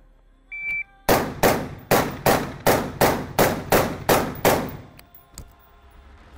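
A shot timer beeps once, then a rapid string of about ten sharp, loud gunshots cracks at an even pace during a shooting drill, followed by quiet.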